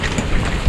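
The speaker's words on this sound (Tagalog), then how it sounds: "Malakas yung ulan." Heavy typhoon rain pours steadily in a short, dense burst of broadband hiss with low rumbling underneath, loud and continuous with no voices.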